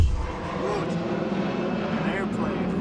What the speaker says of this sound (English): An airplane.